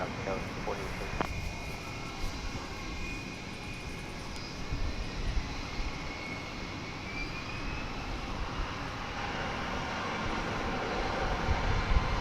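An airliner takes off at DFW Airport, its engine roar a broad steady rumble, with a faint radio voice near the start.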